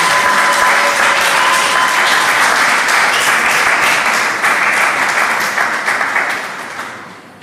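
A church congregation claps loudly and steadily in sustained applause for about seven seconds during a worship service, with the sound tapering off toward the end.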